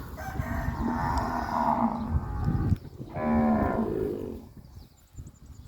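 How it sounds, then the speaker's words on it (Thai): Cattle from a herd of about a hundred being let out to pasture in the morning give two long, loud, nearby moos one after the other, with quieter farmyard sounds in the background. "วันนี้เราก็ออกมาปล่อยวัวกันนะครับผม ปล่อยวัวฝูงนะครับผมฝูงนี้ร้อยหกตัว"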